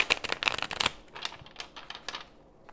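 Tarot cards being shuffled up close, a quick burst of crisp riffling followed by softer, scattered shuffling and slides, quiet with no talking.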